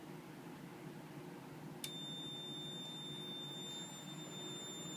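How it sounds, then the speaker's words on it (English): A fire alarm panel's high-pitched electronic alarm tone, triggered by a duct smoke detector, starts suddenly and holds steady over a constant low fan-like hum. "the duct detector just went into alarm"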